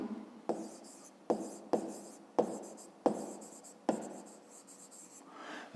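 Pen writing on paper during a math lesson, a series of distinct scratchy strokes in bursts of roughly a second each, close and clear with no talk.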